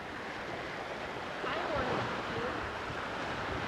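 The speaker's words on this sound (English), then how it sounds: "It's the wind and the waves." Ocean surf rolling in with gusty wind buffeting, a wave swelling briefly louder in the middle before settling back to a steady rush.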